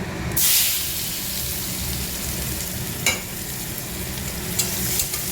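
Chopped onion with black cumin seeds fries in a hot pan, a steady, dense sizzle that fills the whole stretch, with a couple of brief scraping stirs.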